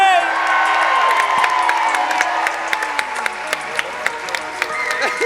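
An audience claps and cheers for young storytellers at a live show, with whoops and excited voices over dense applause. The clapping thins gradually toward the end.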